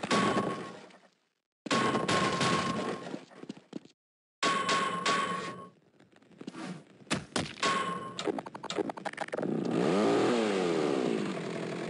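A chainsaw in a horror video game revs with a rough, wavering engine drone, mixed in with loud thuds and clattering impacts, then settles into a sustained snarling buzz toward the end.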